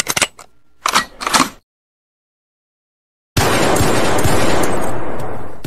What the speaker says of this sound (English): I'm going to say goodbye to stains and dirty surfaces with new kitchen gun